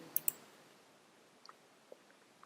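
Mouse clicks during software use: two sharp close clicks near the start, then a few softer, fainter clicks against quiet background.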